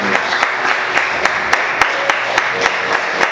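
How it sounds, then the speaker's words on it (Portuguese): A church congregation applauds during a worship service, steady dense clapping throughout with sharper accented claps standing out at a fairly regular beat. "Quantos conseguem aplaudir Jesus? Bem forte."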